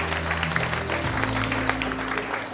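An audience at a Korean horse-industry association inauguration ceremony applauds a visiting provincial councillor, a steady, fairly loud round of clapping over a low amplified hum.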